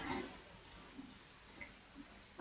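Sparse, faint clicks of a computer mouse while working in Excel 2003, several single taps spaced irregularly and one sharper click near the end, in an otherwise quiet room.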